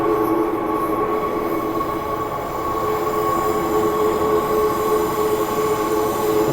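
Train running through Perth Underground station, a steady loud rumble with a sustained high screech from the wheels on a tight turn, continuous and close throughout with no talking.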